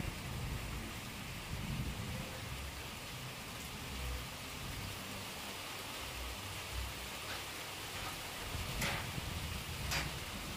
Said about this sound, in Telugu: నైట్ అయితే అసలు పెద్ద వర్షం అండి, మామూలు వర్షం కాదు